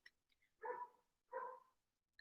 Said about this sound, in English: Dogs across the street have something to say.